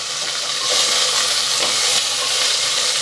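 Onions, garlic and mustard seeds frying in hot oil give a steady, loud, broadband sizzle that swells slightly after the first second and holds without pause, with no voices.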